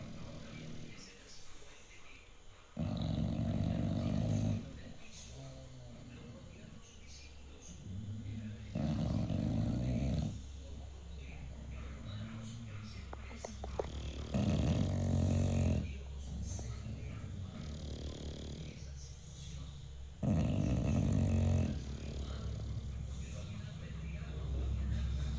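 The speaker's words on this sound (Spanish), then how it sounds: "de las que más me paso tiempo contemplando es cuando están durmiendo profundamente y están roncando profundamente" Bulldog snoring in deep sleep, with slow rhythmic rasping breaths that rise and fall in regular swells, close and fairly loud against a low steady background.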